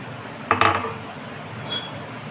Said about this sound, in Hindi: अब मैं इसमें 1 कप शक्कर डालूंगी